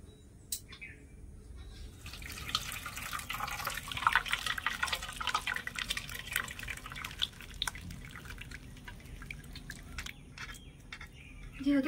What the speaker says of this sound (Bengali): এবারে সাথে সাথে ছানাটা ছেঁকে নিতে হবে।